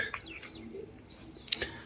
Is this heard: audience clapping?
no